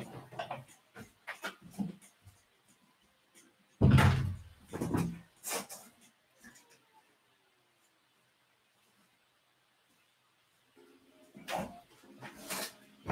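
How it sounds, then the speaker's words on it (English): A door is shut indoors, one loud close thump amid scattered handling knocks and rustles, followed by quiet and a faint later rattle. "had to close the door."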